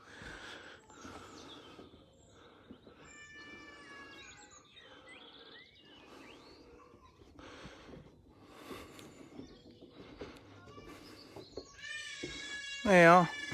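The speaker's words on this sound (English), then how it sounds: "Cat." A cat meows among bird calls and chirps, heard up close and fairly loud toward the end, with people talking throughout in an outdoor setting.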